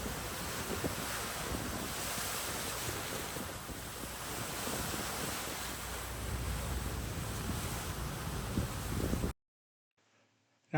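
Turbulent swirling water churns around a boat in Menzies Bay, a steady, loud rushing wash mixed with wind buffeting the microphone, which drops to near silence for the final second or so.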